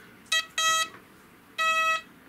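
An XP Deus metal detector gives three electronic beeps, a short one then two longer tones, bright and close against a quiet background.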